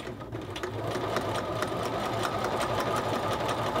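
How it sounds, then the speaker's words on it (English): A sewing machine stitches steadily around the edge of a men's shirt collar, its rapid, even needle chatter running continuously at close range. "so we're just going to stitch around that"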